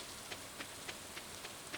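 Rain falls in the Stardew Valley farming game, a soft, quiet hiss with small, evenly spaced droplet ticks and no voices.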